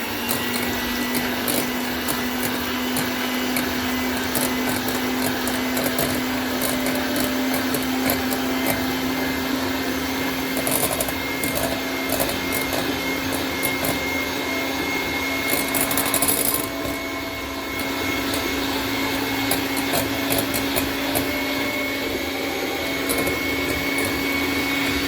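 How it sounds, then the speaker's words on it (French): Stand mixer running steadily while whisking egg whites with sugar, a loud continuous whirring motor hum with a faint rattling edge and a brief dip near the end, no talking. "on a mis du sucre dedans et maintenant on va travailler avec le robot"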